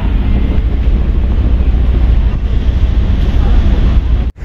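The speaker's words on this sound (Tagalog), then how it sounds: "The weather is windy" Strong wind buffets the microphone at Dumaguete seaport after disembarking from a ferry on an overcast day, a loud, steady low rumble with surf-like wash that runs throughout and cuts out abruptly near the end.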